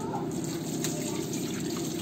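Tap water pours and gushes steadily into a cooking pot while a free-range chicken dish is prepared over a wood-fired stove, a continuous close splashing stream throughout.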